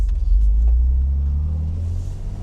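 A Datsun 280Z pulls away on the road, its engine a loud, steady low rumble that builds briefly as the car moves off, heard alone with no talk.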